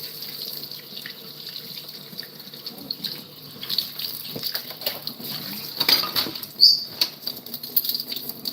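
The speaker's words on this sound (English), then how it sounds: "Washing my straw." A drinking straw is rinsed under a running tap, with water splashing steadily and a few sharper splashes and clinks near the end, close by and with no talk.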